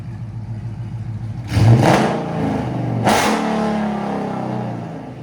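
A supercharged Jeep Grand Cherokee SRT with a 6.4L HEMI, bolt-ons and a straight-pipe exhaust idles with a loud, rough rumble and is blipped twice in short revs, close by.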